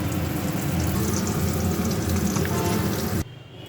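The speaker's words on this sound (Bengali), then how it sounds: "মাছের ঝোল চাপিয়ে দিয়েছি বন্ধুরা" Fish curry (maachher jhol) with potato and pointed gourd bubbles and sizzles steadily in a pan, a dense close hiss that cuts off abruptly near the end.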